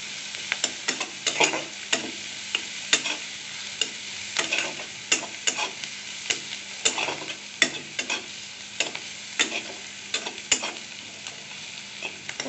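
Onions and green chillies fry in oil left from frying hilsa fish, giving a loud, continuous sizzle broken by frequent sharp pops and clicks of stirring. No voices.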